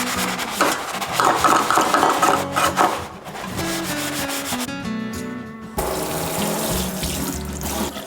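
Running tap water rinses a freshly scrubbed kitchen sink, a continuous close splash and gush with a brief lull partway through before the flow picks back up, sounding alone.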